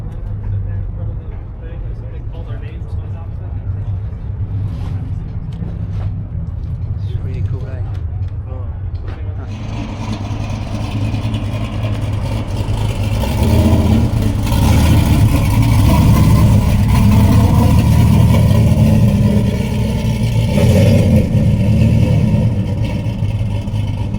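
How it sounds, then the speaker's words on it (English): A lifted truck with a cammed V8 rumbles low and loud, its engine swelling as it passes close by at a busy showcase, with people talking over it. "This is actually one of the few that's not a diesel, and you can tell by the sound it makes. Oh yes, cammed V8"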